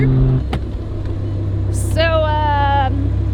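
A heavily modified BMW M2 Competition revs hard, a loud close engine roar over a steady low rumble with a rising whine near the end, and speech underneath.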